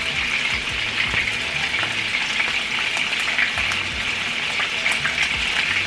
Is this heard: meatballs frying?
yes